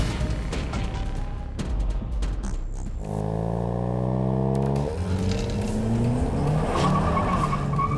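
Hyundai Kona N with 280 hp, driven hard around a race track: loud, steady engine roar with a clear upshift and rising revs near the middle, plus tire noise throughout, no talk.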